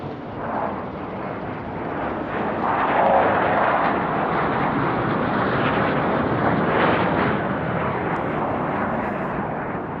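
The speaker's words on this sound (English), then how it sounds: "here comes some F-16s back in the house" F-16 fighter jets flying in at Tucson International Airport give a loud, rushing jet roar that builds quickly and holds strong, close and dominant, with no talk over it.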